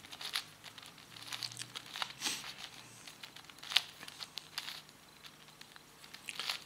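A plastic Sun Cube twisty puzzle is turned by hand to scramble it. The quiet clicks, rattles and crinkly scrapes come in irregular bursts, close by, with no talk.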